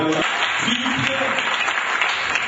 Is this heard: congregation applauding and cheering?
yes